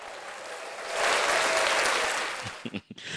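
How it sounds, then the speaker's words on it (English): A canned round-of-applause sound effect plays on a Zambian news talk show, a dense crowd clapping that swells in the middle, fades, then breaks off into a few words of talk. "So if you ever ask why I have to play that round of applause, it's my muse"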